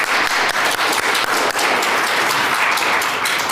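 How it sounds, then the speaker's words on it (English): Audience applause for the speakers at the close of a talk on clinical judgment and AI predictions, a dense, steady clapping from a crowd, loud and sustained throughout with no talk over it. "let's have a round of applause for our speakers."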